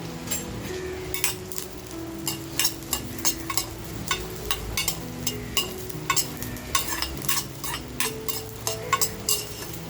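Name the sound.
garlic, ginger and chilies dry-roasting in a pan without oil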